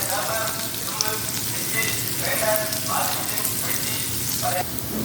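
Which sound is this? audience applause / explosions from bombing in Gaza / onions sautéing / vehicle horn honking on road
onions sautéing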